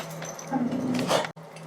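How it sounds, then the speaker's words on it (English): A pet dog whimpers and yips close by in a room, a short run of high whining cries over steady background hum, cut off abruptly near the end. "my dog started barking"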